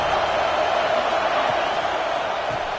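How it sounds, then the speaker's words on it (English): Steady stadium crowd roar from an NCAA college football video game, a continuous broad wash of cheering voices with no breaks, moderately loud and even. "Listen to the crowd energy here in the early going."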